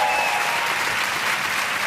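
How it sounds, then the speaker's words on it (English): A television studio audience at an ice-dancing show applauds Beth Tweddle's routine with loud, continuous, even clapping from a large crowd. "round of applause, Beth"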